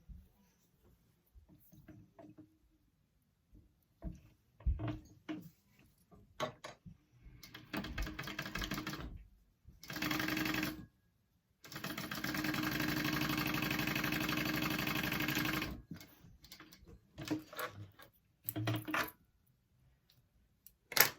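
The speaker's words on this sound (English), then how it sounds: "you're going to sew the top edge of your zipper pocket with the top edge of this zipper" A sewing machine stitches a zipper pocket's top edge to a zipper edge, running in several bursts, the longest about four seconds, separated by pauses with soft handling noises.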